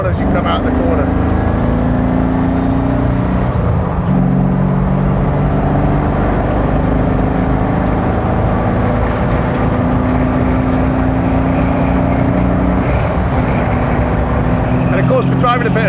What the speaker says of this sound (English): with it being a over 6-litre V8 car, this thing doesn't rev wildly high